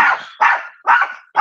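Guard dog barking loudly and close by in a run of four sharp, evenly spaced barks with no other sound between them.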